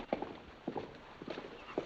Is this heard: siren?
no